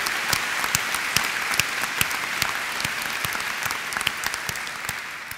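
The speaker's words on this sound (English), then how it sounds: "another loud applause for our great choir" Audience applause for a choir at a university graduation ceremony in Dundee, a steady dense patter of many clapping hands filling the hall and fading slightly toward the end.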